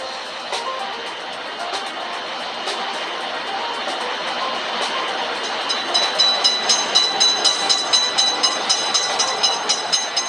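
A cartoon train passes a game's railroad crossing, a steady rumbling rush that builds into a regular clickety-clack of wheels, joined by a repeating high bell-like ding.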